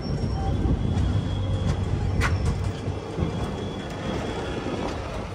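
The Parasuram Express passenger train moving between Kozhikode and Kannur in Kerala gives a steady low rumble with rail noise that holds for several seconds. A faint whistle-like tone passes briefly through the middle.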